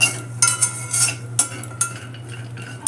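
Dry coconut is stirred and roasted in a hot kadai, with a spatula scraping and clinking against the pan in irregular bursts and a faint sizzle underneath, close and alone.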